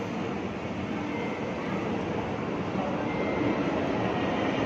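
A metro train rumbles past steadily and loudly with a broad, continuous roar, a voice faintly present beneath it.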